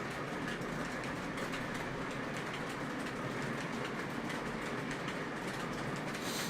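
Model train running on an MTH sound system, a steady rolling clatter with rhythmic clickety-clack and rail noise, continuous and fairly close with no voices.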